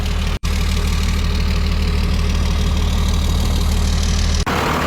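A Ford F800 truck engine running after a lift pump swap, a loud, steady low idle drone with a rough knocking undertone, close by, broken by brief cut-outs near the start and end.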